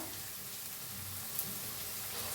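Cabbage manchurian frying in a pan, a faint, steady crackling sizzle with soft hiss across the whole moment.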